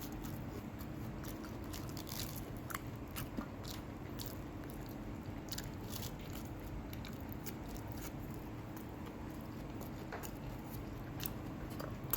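Crispy durian chips bitten and chewed close to the mic: a steady run of small crunches and crackly bites over a low background hum, fairly quiet, with no talking.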